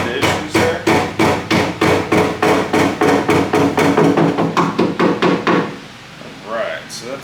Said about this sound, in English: I wouldn't want to use anything other than a rubber mallet.